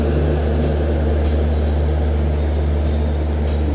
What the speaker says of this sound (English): Intercity Express train is moving towards Howrah Railway Junction.